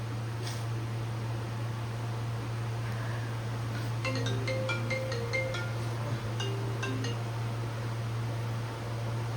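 A faint electronic ringtone melody plays over a constant low hum, repeating a short tonal phrase twice.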